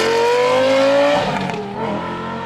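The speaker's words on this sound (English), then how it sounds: "This is what a Lamborghini should sound like." Lamborghini Gallardo V10 fitted with a megaphone exhaust, heard as a loud high-pitched wailing rev that climbs and then drops off sharply, with a crackling settle as it falls back.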